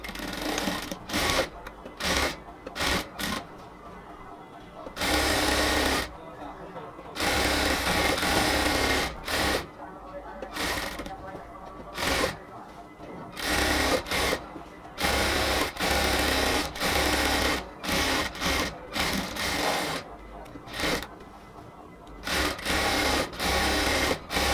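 A sewing machine stitches a seam on a cotton salwar leg in repeated bursts of steady mechanical whirring, close and moderately loud, separated by short pauses, with no talk.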